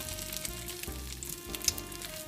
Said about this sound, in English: to place the cutlety on the frying pan